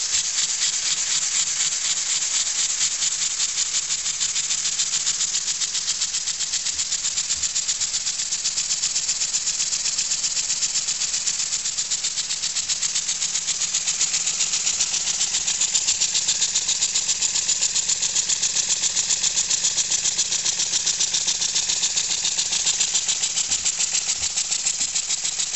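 A model twin tandem compound engine running on air from a compressor tank puts out a fast, even mechanical chuff and rattle that continues without a break.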